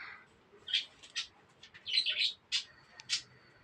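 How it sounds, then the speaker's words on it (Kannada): In a village setting, a bird gives a series of sharp, shrill screeches and squawks, about eight bursts in irregular rhythm, fairly near, over a quiet background. "ಪಕ್ಷಿ ಕಿರ್ಚಾಡ್ತಾ ಇದೆ"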